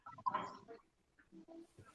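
Emus calling outdoors in the morning, a cluster of short, low, grunting and drumming calls with a sharper honk near the start, moderately close with gaps between bursts.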